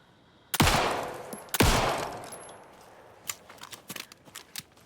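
Gunfire in the video game Alan Wake 2: two loud, close shots about a second apart, each ringing out, followed by a scatter of quieter clicks and clatters.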